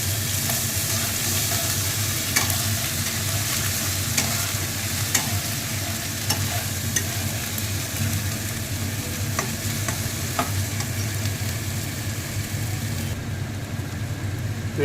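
Green chilli paste sizzles steadily in a hot pan, close and continuous, while a spoon scrapes and stirs at irregular moments. Nobody speaks.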